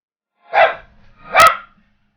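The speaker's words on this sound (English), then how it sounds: "The dog barks super loud." A dog gives two loud, sharp barks close by, a brief pause between them, with silence before and after.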